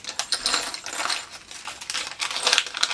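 Small loose metal pieces from a mechanical blind box toy clink and rattle together in quick, irregular, bright jingling bursts, close and fairly loud, without any voices.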